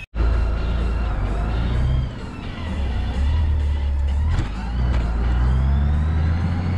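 A Honda Goldwing motorcycle rides along with a loud, steady engine drone and heavy wind rush, the pitch shifting slightly as it moves.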